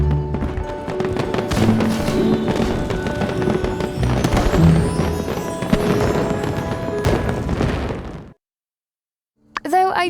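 Fireworks bursting in the game My Time at Sandrock, a dense run of popping cracks and thumps layered with music and game sounds for about eight seconds before cutting to silence, with a voice returning at the end.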